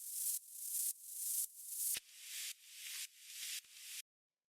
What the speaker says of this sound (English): What I have is I have some white noise going into a bandpass filter to kind of shape the frequency